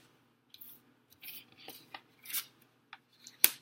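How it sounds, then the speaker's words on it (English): Tarot cards shuffled by hand during a reading, a series of soft riffling and sliding bursts with brief pauses between them, close and quiet with no talk. "Shuffle again, see what comes out."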